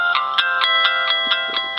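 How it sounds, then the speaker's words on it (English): A cell phone running on AAA batteries from an emergency charger plays its start-up melody, a bright, tonal sequence of evenly spaced chiming notes, loud and close with no talk. "Phone powers up normally."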